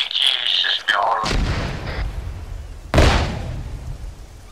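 Artillery in ARMA 3 fires two heavy booms a couple of seconds apart, each loud and close with a long rumbling tail, following a short burst of higher-pitched noise.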